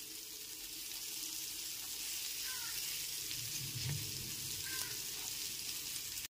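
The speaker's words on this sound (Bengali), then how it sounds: "ভাজা মশলাটা দেওয়ার পর ডিমগুলো উল্টে পাল্টে ভেজে নেব।" Eggs frying in a pan with a fried spice masala of black pepper give a steady close sizzle throughout, with a few soft scrapes and stirring clinks, and no talk.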